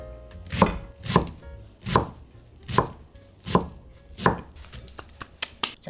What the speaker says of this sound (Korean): 그냥 총총 썰어주세요